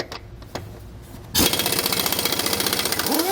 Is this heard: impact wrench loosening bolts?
yes